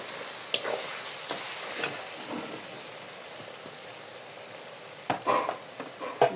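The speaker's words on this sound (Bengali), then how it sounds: "ভালো করে আমি ভেজে নিব, যাতে কাঁচা ফ্লেভারটা না থাকে।" Ginger-garlic paste and spices frying in a pan with browned onions, a faint steady sizzle with occasional spoon stirs and a few louder scrapes near the end.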